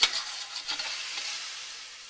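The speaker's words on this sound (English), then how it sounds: "Now we're going to add some mushrooms to this, because I like mushrooms" Mushrooms cooking in a pan alongside garlic chicken, a soft steady sizzle with faint stirring scrapes, one brief clink at the start, quiet and close.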